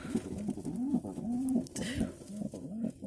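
Pigeons coo softly in a loft of fancy and homing pigeons, a repeated rolling rhythm of low throaty calls, close and moderately quiet, with faint shuffling in the background.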